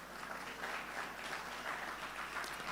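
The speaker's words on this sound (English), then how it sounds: "I think that deserves a round of applause." An audience at a conference event applauds in a steady, dense patter of clapping hands that holds evenly from start to finish.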